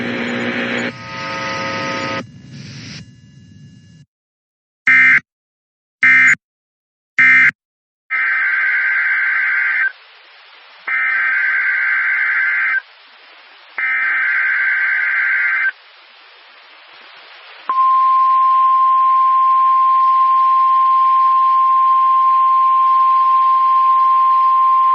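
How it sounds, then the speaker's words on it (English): A NOAA weather radio weekly warning alarm test plays loud, harsh digital data bursts and short pauses, then a long, steady, piercing alarm tone that runs to the end. "This concludes the weekly test of the warning alarm system."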